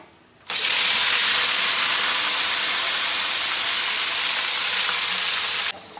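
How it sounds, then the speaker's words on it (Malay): Blended chili paste hits hot oil in a pan and sets off a loud, steady sizzling hiss that starts abruptly, holds evenly for about five seconds, then cuts off. "sekarang bahan-bahan yang kita blender ni tengah tumis"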